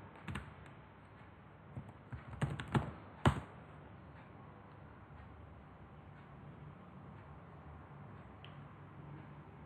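A handful of crisp keystrokes taps out a link on a computer keyboard, clustered in a brief burst near the start, then quiet room tone.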